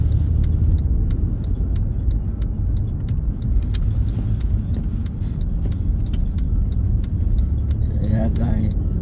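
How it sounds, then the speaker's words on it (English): Busy city road traffic on Eglinton Avenue East in Toronto, a steady low rumble of passing cars with a continuous wash of engine and tire noise, close and fairly loud, with a faint voice near the end. "Right now you can see there's a lot of traffic"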